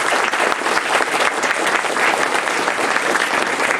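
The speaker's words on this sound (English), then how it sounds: "big round of applause to everyone who has contributed to that." Audience at an anime convention's closing ceremony applauding: a dense, steady wash of loud clapping from a large indoor crowd, sustained without a break.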